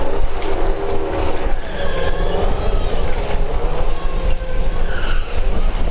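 A Dodge Hellcat runs at Dragway 42 during a drag racing event, a loud, dense, constant engine roar with a rough rumbling low end and a whining tone that rises slightly in pitch.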